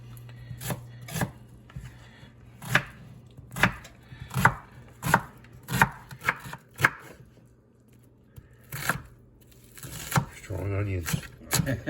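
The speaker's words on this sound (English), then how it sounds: "I'm going to dice up our onions small." Onions being diced small with a knife for cauliflower pasta: a steady run of crisp, close blade strikes on a board at an even rhythm, then a brief pause and a faster, denser flurry of cuts.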